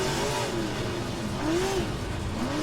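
A late-model race car engine in the rFactor 2 racing game drones steadily, with pitch sweeping up and down as it revs through corners. The sound is loud and continuous.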